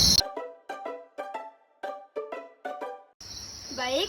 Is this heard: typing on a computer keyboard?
no